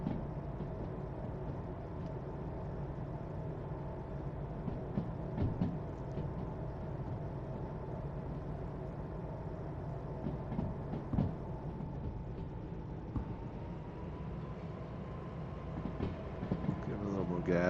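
A locomotive in the Derail Valley train simulator running with its dynamic brake engaged gives a steady mechanical rumble and hum with faint clicks of rail travel, while a voice talks quietly over it.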